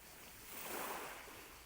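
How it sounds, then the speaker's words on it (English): Ocean waves wash onto a secluded beach in one soft surge of surf that swells and fades, faint and broad, with no voices. "I'm sitting here on this beautiful, secluded beach"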